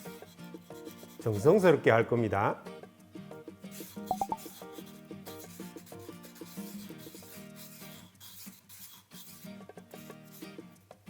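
Sandpaper rubbing a wooden speaker piece in a woodworking class, a close rasping scrub in one short burst followed by softer scattered rubbing, with a voice speaking briefly.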